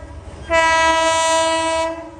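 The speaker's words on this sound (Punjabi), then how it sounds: "ਉਹ ਆ ਗਈ ਹੈ ਟ੍ਰੇਨ" A loud train horn blasts for over a second, rich and harmonic, over a low rumble before cutting off.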